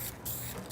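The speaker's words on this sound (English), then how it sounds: "You certainly want to have a well-ventilated area whenever spraying." A brief, steady hiss of an aerosol can of Dupli-Color primer spraying, close by, with a slight pulse partway through.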